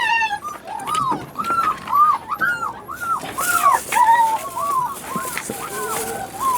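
Several dogs bark and whine excitedly in quick, overlapping yips and whimpers while awaiting food, close by, continuing without pause.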